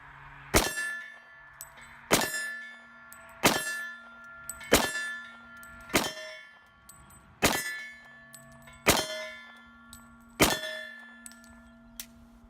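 A SIG P220 Elite pistol fires eight evenly spaced shots at steel targets, each sharp report followed by a ringing metallic clang, loud and close with no talking.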